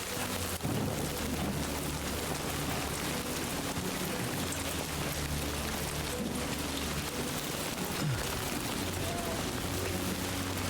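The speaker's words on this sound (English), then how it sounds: "It is raining good." Steady rain falls in Death Stranding 2, a dense continuous patter over rocky terrain with low rumbling underneath, lasting throughout without speech.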